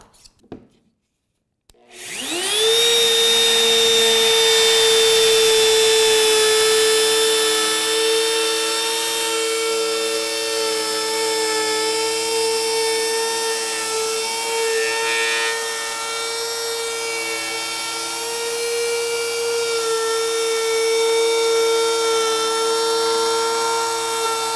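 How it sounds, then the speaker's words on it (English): A wood router cuts along a line in a wooden board for a puzzle-leg coffee table, spinning up after a brief click and then holding a loud, steady high-pitched whine with a grinding cutting tone for over twenty seconds, with no talk. "And now my router should follow right in that line."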